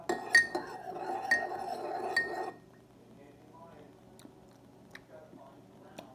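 A spoon clinks against a glass while a pinch of salt is stirred in, several bright close taps over the first two seconds, then fainter scattered clicks and small handling noises.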